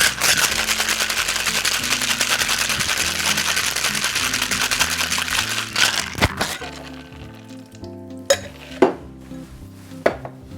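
Ice rattles hard in a cocktail shaker as a gimlet made with Rose's lime cordial is shaken, a dense continuous clatter for several seconds that stops abruptly, followed by a few separate sharp knocks and clinks.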